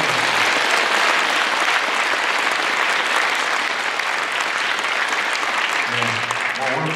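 A large audience at a Korean unification rally opening ceremony claps in loud, steady, sustained applause throughout, with a brief voice cutting in near the end.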